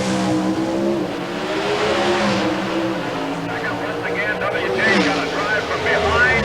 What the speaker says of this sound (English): It is Warren Johnson coming from behind yet again to take the win